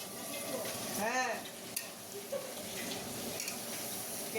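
Spicy chicken sizzling and spattering in a home kitchen pan, a continuous crackling fry with scattered pops and a brief watery splash, fairly faint and steady.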